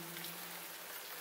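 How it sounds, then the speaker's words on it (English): Steady rain falling, a dense, even hiss of drops with no distinct rhythm, faint and continuous, alone apart from a low soft tone beneath. "Rain"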